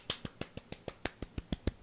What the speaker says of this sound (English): A little golf clap there.